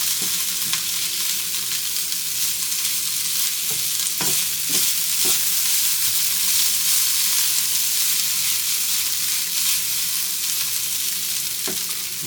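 Potatoes browning in a hot pan for a quick hash, a constant bright sizzle of frying with a few scattered clicks and scrapes as they are stirred around, no talk.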